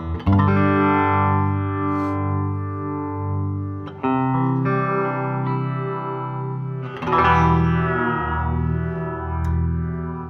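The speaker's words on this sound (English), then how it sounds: "Let's put this on the intensity so you can really hear that." Electric guitar played through a Fender tube amp with tremolo turned up to high intensity, sustained chords pulsing and swirling with a wavering, slightly distorted tone, loud and steady with a fresh strum near the middle and another late on.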